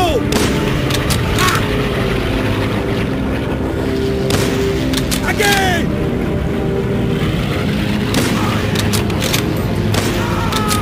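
In a video game, rifle shots ring out beneath the continuous drone of bomber engines overhead, several sharp cracks and booms punctuating a loud, dense roar throughout.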